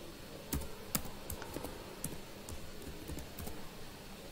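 An email address is typed on a computer keyboard in quick, irregular clicking keystrokes, close and fairly quiet, with no talk.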